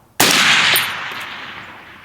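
A single loud rifle shot through a HUXWRX Flow 762 Ti titanium suppressor, a sharp close crack followed by a long echoing decay outdoors.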